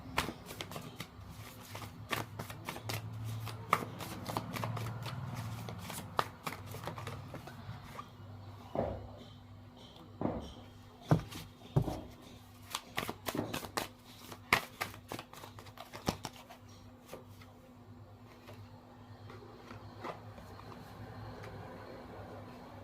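Tarot cards shuffled and laid down, a long run of crisp riffles, slaps and taps close by, busiest in the middle stretch and thinning toward the end, with a steady low hum behind.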